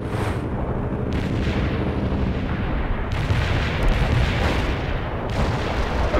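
Heavy artillery fire from a World in Conflict battle booms and rumbles in a continuous, dense barrage, loud and close, with repeated blasts overlapping without pause.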